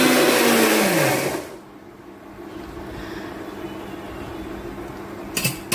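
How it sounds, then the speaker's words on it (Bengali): A grinder jar blending spices with a little water into a smooth paste, a loud close whirring motor that winds down, then a quiet lull and a short rattling burst at the end. "আমি গ্রাইন্ডারের জারের মধ্যে নিয়ে আমি একটা স্মুথ পেস্ট তৈরি করে নেব।"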